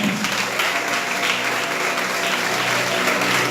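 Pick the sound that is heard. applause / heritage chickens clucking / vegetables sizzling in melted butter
applause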